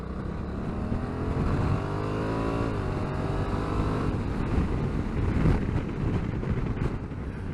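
2022 Honda CRF1100L Adventure Sports with DCT climbing a hill, its engine rising and shifting in pitch through a steady, fairly faint drone with wind rush, no talk over it.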